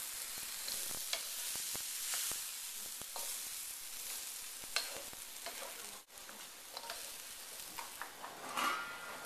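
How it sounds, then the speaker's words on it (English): Vegetables sizzle and crackle in a very hot wok while being stirred, a continuous bright frying hiss punctuated by irregular scrapes and taps of the utensil against the pan, close and without speech. "keep stirring up your vegetables so that everything gets cooked and nothing gets burned, because the wok should be really hot"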